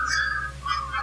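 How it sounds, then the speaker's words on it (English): Faint, wavering whistling tones play back from a digital recorder during an EVP session in the living room of the Ancient Ram Inn, two short rising and falling notes over a low hum. "we heard a whistling on there"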